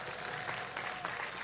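Crowd applause at a 2024 community college graduation ceremony fills the space, a dense steady clatter of many hands, fairly distant and even.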